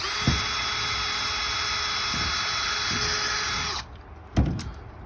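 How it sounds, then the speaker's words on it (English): A small pilot drill bores through a plastic side gate, a steady high whine running for nearly four seconds with a few low knocks, then stopping; a louder thump follows. "We're using a little pilot drill here."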